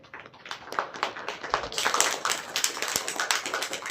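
An audience claps during a ceremonial lamp lighting at an annual volunteer organization conference, starting as scattered claps and swelling into dense, continuous applause from many hands nearby.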